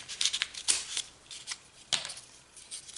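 Scissors snip through a cardboard paper towel roll in a few quick, crisp bursts of rustling cuts, close and fairly quiet, with short pauses between.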